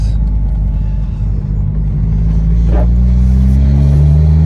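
A Mitsubishi Lancer Evolution engine drones loudly and steadily, revving up slightly toward the end, with a low rumbling mechanical whine from the gearbox throughout; no speech.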